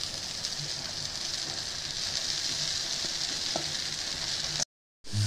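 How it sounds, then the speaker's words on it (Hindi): Poha being mixed with chilli powder and salt in a hot pan, a steady bright sizzle with faint scraping stirs throughout, broken by a brief cut near the end. "अब हम इसको अच्छी तरह मिक्स कर लेंगे, पूरा अच्छी तरह से मिलाएंगे बढ़िया से"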